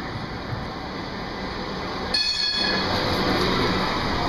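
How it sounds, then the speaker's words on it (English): A train rolls past on the rails in Istanbul, a continuous rumbling clatter of wheels on track that grows louder midway, close and alone without talk. "Here's the train."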